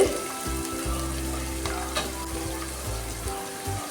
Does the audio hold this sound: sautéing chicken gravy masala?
yes